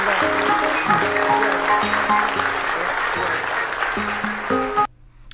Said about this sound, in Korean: 우리 대통령께 여러분 큰 박수를 다시 한번 보내주시면 대단히 고맙겠습니다